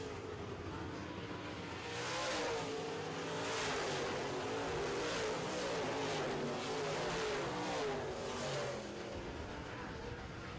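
Late model race cars roaring around the track during a 2016 feature race, a continuous layered engine drone that swells and fades as cars speed past, moderately distant with no voices.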